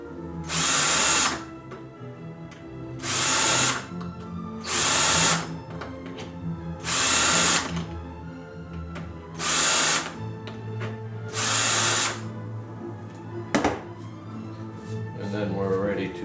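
A power drill bores center holes for drop leaf cherry table hinges in six loud, even bursts of roughly a second each, with pauses between, then a sharp knock and a person speaking quietly at the end.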